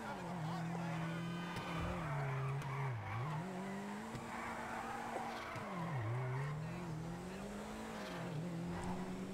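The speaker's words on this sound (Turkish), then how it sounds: "Anca teker yakıyoruz." Car tires spin and squeal in GTA Online as the engine revs, the screech rising and dipping in repeated swoops of a few seconds each, with someone talking faintly underneath.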